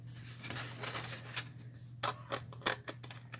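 Scissors snipping paper for a pop-up heart accordion book, several quiet close cuts with crisp separate snips clustered toward the end over a steady low hum.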